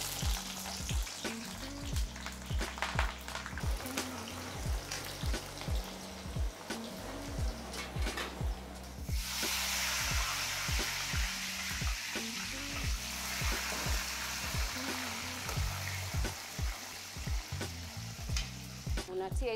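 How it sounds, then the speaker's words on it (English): Potatoes fry in hot oil in a pan during home cooking in Kenya, giving a steady close sizzle broken by repeated scraping stir strokes, with a louder bubbling surge partway through. "While the potatoes are frying"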